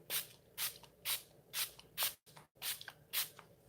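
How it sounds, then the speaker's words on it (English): Wet n Wild setting spray misted onto a face in repeated short bursts, about eight quick hissing pumps at a steady rhythm, close and fairly quiet with no talking. "I'm going to go ahead and use Wet n Wild setting spray"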